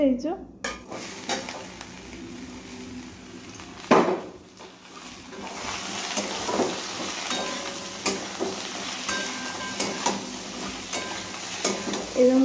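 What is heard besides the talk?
bitter gourd and vegetables frying and stirred for shukto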